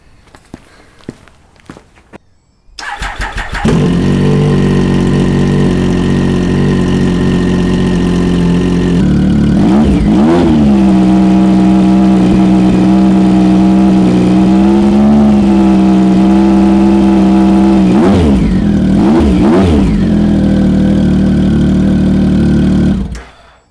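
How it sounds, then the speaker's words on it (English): A Triumph Speed Triple 1050 S motorcycle engine running with no exhaust mufflers fitted: a few faint clicks, then the engine fires and settles into a loud, steady, rough idle with a couple of short blips of revs, before cutting off abruptly. "I really need to fire it up so we can hear what it sounds like without any mufflers on there"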